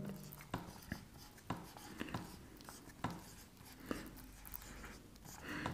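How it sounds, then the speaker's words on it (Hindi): Chalk or marker writing on a board during a history lesson, soft scratchy strokes in an irregular rhythm, faint and close, with a voice speaking quietly over it. "मैं यहां पे लिख देता हूं"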